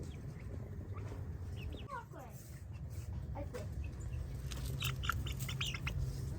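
Soft clucking and chirping from poultry nearby, mixed with small birds and a low background hum, with faint voices.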